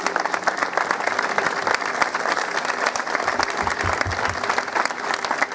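An audience at an outdoor folk festival gives a steady, full round of applause for the helpers, dense clapping that holds evenly from start to finish.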